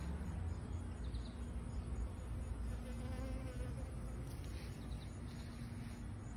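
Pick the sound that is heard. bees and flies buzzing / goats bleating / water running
bees and flies buzzing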